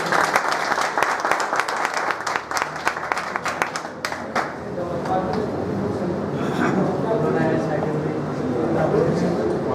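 Enthusiastic welcoming applause from a crowd at a gathering, dense clapping for about four seconds that fades into a steady hum of crowd murmur and voices.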